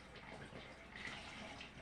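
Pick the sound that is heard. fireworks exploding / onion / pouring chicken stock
pouring chicken stock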